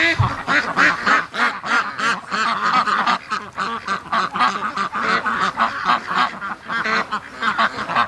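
A flock of domestic ducks in a backyard near a garden keeps up a loud, dense, continuous chorus of overlapping quacks and honks close by, with no pause in the calling.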